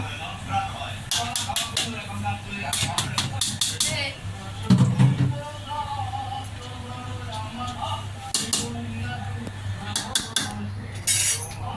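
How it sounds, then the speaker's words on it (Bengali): Uncooked white rice is mixed with other ingredients in a bowl, making bursts of metallic clinks and scraping of a spoon against the dish. A person talks intermittently throughout. "আমি সবগুলো মিক্স করে নিব। এর ভিতরে আমি সাদা চালগুলি ঢেলে দেব।"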